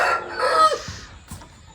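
A rooster on a poultry farm crows once, close and fairly loud, the call trailing off before a few soft clucks and thumps follow.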